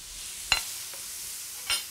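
Vegetables cook in olive oil for a vegan shepherd's pie filling, a faint steady sizzle with two brief louder clinks or scrapes against the pan.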